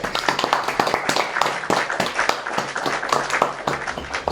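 A round of applause from a small group, distinct individual claps in a quick uneven rhythm, close and moderately loud with no talking over it.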